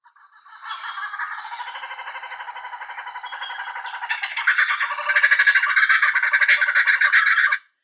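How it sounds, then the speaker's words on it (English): A kookaburra's laughing call played back from a recording, a continuous rhythmic cackling chatter that builds louder and denser partway through before cutting off abruptly, with no talking over it. "I'm going to play for you an example of a kookaburra laugh"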